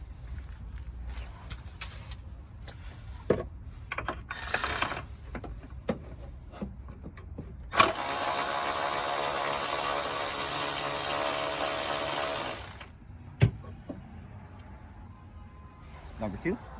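A ratchet works on the bolts of a windshield wiper motor transmission linkage, with scattered clicks and knocks leading into a sustained gritty whirring stretch, then more light clicks, close by and fairly quiet.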